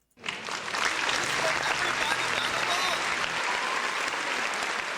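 Audience applause after a remark about cheap fast-food meals, dense and steady clapping from a crowd that starts abruptly and holds for several seconds, with faint voices mixed into the wash.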